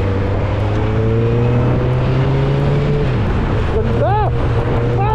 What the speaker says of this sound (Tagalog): So this is a 1000cc bike.